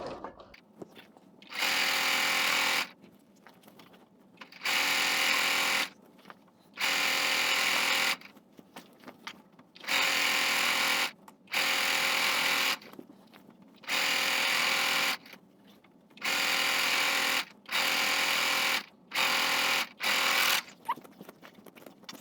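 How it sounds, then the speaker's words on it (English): A sewing machine stitches a quarter-inch seam on a Christmas panel quilt, running in about ten steady bursts of a few seconds each, separated by short pauses, close and clear with no talking. "we're gonna start stitching 1/4 inches distance"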